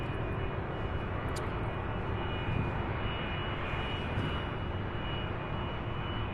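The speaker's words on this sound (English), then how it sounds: "the Queen, the 747-8 heading to Cologne, Germany. A 3-year-old aircraft making that turn" A Boeing 747-8 cargo jet taxis and turns at UPS Worldport in Louisville, its engines giving a steady, loud roar that holds without a break for the whole stretch, with no voices over it.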